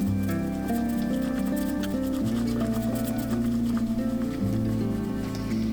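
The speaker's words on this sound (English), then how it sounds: "Kind of using the palms of my hand or the edges here to swish this little mixer in between my hands." A small milk frother spun between the palms to whisk a matcha latte makes a loud, continuous whirring rattle that shifts pitch as it is swished, with no speech.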